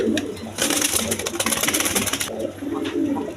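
Pigeons for sale in a loft or market cooing, a run of soft low coos repeating in quick pulses, close by, with rustling and wing noise mixed in.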